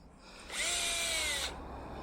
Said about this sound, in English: Oh my god, she's using my drill.